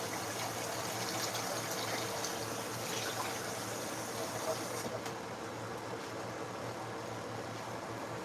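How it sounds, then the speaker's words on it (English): Water pours steadily into a pot on a home kitchen stove during dinner cooking, a continuous splashing gush for about five seconds that then thins and trails off. "Let me go ahead and add just a little bit more water."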